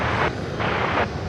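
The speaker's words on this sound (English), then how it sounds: "So that plane, that MD-11 you see turning there, is off to Louisville." An MD-11 airliner taxies at DFW airport with a loud, steady jet engine roar that swells and dips in a few pulses.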